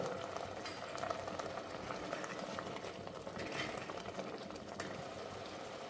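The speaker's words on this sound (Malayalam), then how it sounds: "പാനി മാമ്പഴമായിട്ട് ചേർന്നൊന്ന് വരട്ടെ, തിളക്കട്ടെ." Mango pieces simmering in jaggery syrup inside a covered pot, giving a steady, low bubbling and faint sizzling hiss that runs evenly throughout without any talk.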